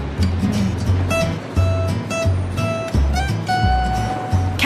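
A hovercraft's loud droning engine roars with repeated whooshing surges and splashes, close up, rising and falling steadily as it bounces over choppy waves.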